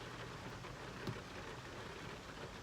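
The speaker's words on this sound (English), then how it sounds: "just started pouring like a mofo" Heavy rain pours down in Montvale, New Jersey, a dense, even hiss of drops on surfaces that stays constant throughout, with one brief thump partway through.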